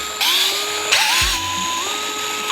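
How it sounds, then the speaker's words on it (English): A DeWalt gyroscopic screwdriver whirs steadily as it backs screws out of a Onewheel GT foot pad, its motor pitch shifting as each screw loosens, close and alone. "I'm just gonna use my DeWalt Gyroscopic because it's a lot quicker"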